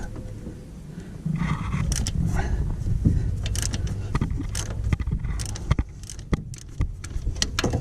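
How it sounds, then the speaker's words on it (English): A hand ratchet turns a bolt on a 2008 Subaru Impreza engine during a head gasket job, making bursts of creaking, clicking mechanical sounds with metallic knocks, heard close and without talk. "go to a shorter ratchet"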